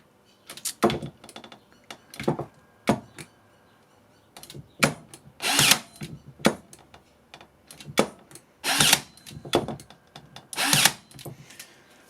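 Ozito cordless 12V stapler-nailer driving fasteners into hardwood, a run of sharp, loud, close snaps spaced irregularly, sometimes paired, with quiet gaps between them.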